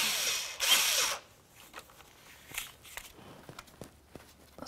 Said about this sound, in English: We'll loosen the clamp. In our situation, it's a 1/4-inch socket.